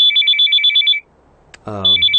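A bright electronic phone ringtone repeats in quick two-tone bursts, breaks off briefly, then rings again over a short burst of voice.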